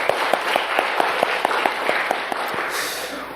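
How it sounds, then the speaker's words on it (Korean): Church congregation applauding during a Sunday service, dense steady clapping from many hands filling the room, loud and continuous. "영광의 박수를 주님께 돌립시다"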